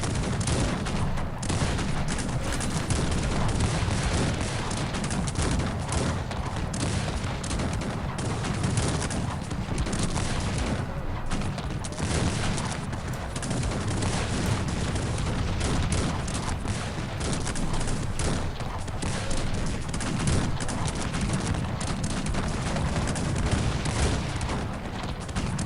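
Cannon and musket volleys in Cossacks 3 crackle in a dense, unbroken barrage of overlapping shots and booms, loud and sustained throughout with no pauses.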